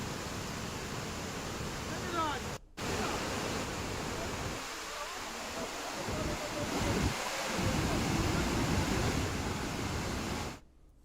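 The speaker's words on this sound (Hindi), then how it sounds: "ये रांची का दशम फॉल है, जहां पर इस झरने को देखने के लिए दूर दराज से लोग पहुंच रहे हैं।" Dassam Falls waterfall near Ranchi, a steady loud roar of rushing water with no letup, briefly cut out twice.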